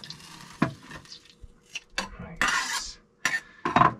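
Garlic is stirred into butter in a pan on a boat galley stove, with scraping and clinking utensil strokes against the pan in uneven bursts, close and fairly loud, with no talk.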